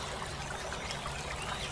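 Water trickles and splashes steadily, a continuous running-stream sound as a cartoon villager falls into a river, with no voices over it.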